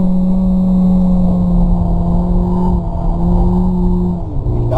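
Volkswagen Polo GTS accelerating hard at full power around a wet race track, a loud, steady engine drone with rising tone held close throughout, easing slightly near the end.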